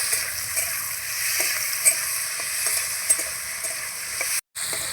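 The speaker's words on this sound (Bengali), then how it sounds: "ক্যাপসিকাম কুচিটা একটু ভেজে নিয়ে এখন দিয়ে দিচ্ছি টমেটো কুচি একটু নাড়াচাড়া করে নেব" Chopped capsicum and tomato fry and get stirred in a pan for an aloo kabab filling, with a steady close sizzle broken by soft scraping strokes and a brief drop to silence near the end.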